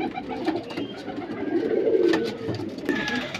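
A female teddy pigeon coos softly nearby, low rolling calls rising and falling in gentle repeated phrases against faint background noise.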